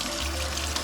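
Steady running water from a kitchen tap, pouring continuously at close range while an onion is rinsed clean for soup, with no voices.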